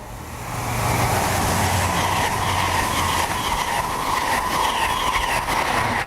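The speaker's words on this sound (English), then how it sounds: "Trains on the lines closest to us, which are the main lines, are travelling at anything up to 125 miles an hour." Trains rush past on British main-line tracks beside the camera in Berkshire at up to 125 mph, a loud, continuous roar of wheels and wind with clickety-clack rhythm, close by and sustained.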